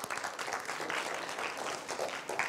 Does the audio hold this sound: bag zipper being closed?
no